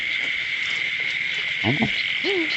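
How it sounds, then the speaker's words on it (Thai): Frogs calling in a rice paddy in rural Isan, Thailand, a few short croaking bursts and a rising chirp over a steady, loud insect and cricket drone. "ฟังเสียงกบ"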